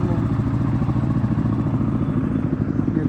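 A motorcycle engine rumbles steadily and loudly on a steep mountain dirt road in the Laos highlands, with continuous mid-range engine drone and clatter throughout.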